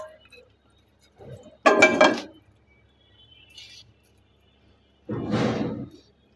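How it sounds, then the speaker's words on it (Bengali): Palm fruit cakes (taler pitha) made with milk and coconut tipped onto a plate, two short clattering bursts of contact against the dish separated by near silence. "পিঠাগুলো এখন আমি একটা প্লেটে ঢেলে নিচ্ছি।"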